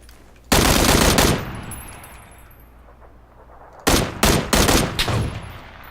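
Automatic gunfire in the video game PUBG comes in loud, close rapid bursts: one long volley, a quiet pause, then several shorter clustered bursts.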